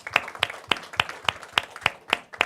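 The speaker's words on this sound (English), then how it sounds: "Let's give a big round of applause for all of them." Evenly spaced, sharp hand claps ring out about nine times in a steady rhythm at a Parkinson's science and technology conference, fairly faint and without other sound between the beats.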